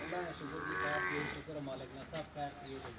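Buffaloes low close by in a short series of deep, drawn-out calls, with voices talking around them.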